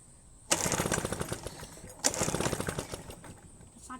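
A Husqvarna small-engine tool fires up after a cold start, two sharp bursts each settling into a rapid buzzing two-stroke rattle, close and fairly loud with no talk.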